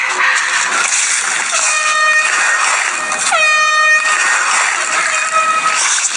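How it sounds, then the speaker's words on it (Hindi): A loud, blaring air horn sounds in several long blasts, one with a rising pitch, over a constant rushing background noise. "हॉर्न बज रहा है।"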